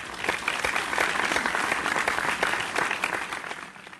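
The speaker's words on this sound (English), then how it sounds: "Give him the round of applause to the one and only Edward." A crowd applauds Edward with dense, lively clapping that holds steady for several seconds and then gradually thins toward the end.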